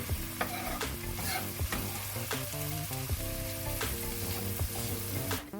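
Onions and garlic sizzle and crackle steadily in a pan for a Caribbean Greek medley, with stirring scrapes and clinks over a continuous loud frying hiss.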